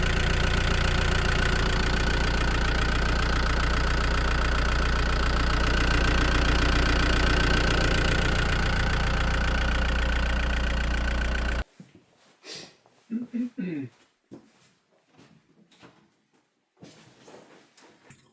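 A tractor engine idles steadily and loudly for about eleven seconds with a constant mechanical rumble, then cuts off, leaving quieter scattered clunks and movement noises.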